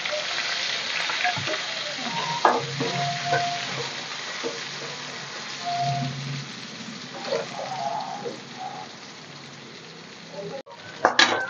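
Small onions frying in a pan for mutton gravy, a steady close sizzle with occasional stirring clinks and scrapes throughout, no one talking.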